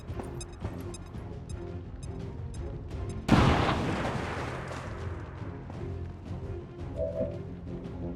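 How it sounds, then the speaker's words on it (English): A grenade detonates in the turn-based strategy game XCOM 2: War of the Chosen, one sudden loud blast that rumbles away over several seconds above a quiet musical game background. "Je lance une grenade."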